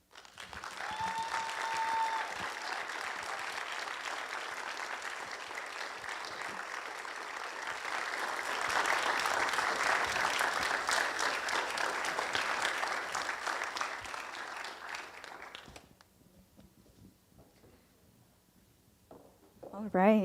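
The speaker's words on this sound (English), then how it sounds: "Can we give another round of applause for Representative Dr. Clark?" An audience applauds after a TEDx talk at TEDx Poncey Highland 2021, sustained clapping that swells midway, then stops abruptly and leaves a quiet room before a voice at the end.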